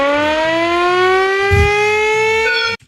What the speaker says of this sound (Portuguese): trem de sirene é essa